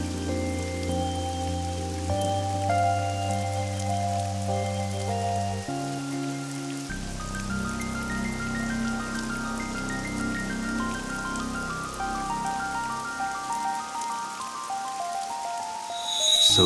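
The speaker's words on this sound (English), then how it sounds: "It's raining." Rain falls in the video game AI: The Somnium Files, a steady even patter of drops on surfaces as background music fades out beneath it.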